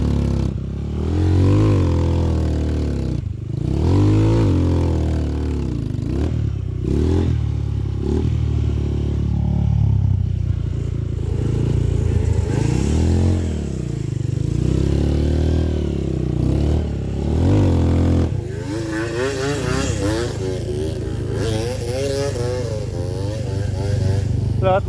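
A motorcycle struggling along a rough, deep mountain track on Gunung Guntur, its engine repeatedly revving and rising in pitch, loud and close, with clattering and scraping between revs and occasional talk over it.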